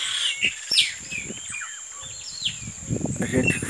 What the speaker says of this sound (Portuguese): O passarinho tá cantando lá em cima, lá, o passo preto.